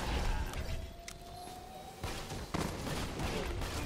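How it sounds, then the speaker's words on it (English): Gunfire in the video game Borderlands 2: a mid-level volley of shots with sharp cracks and a couple of heavier bursts near the end, under a steady game backdrop. "Alright, if I keep firing bullets"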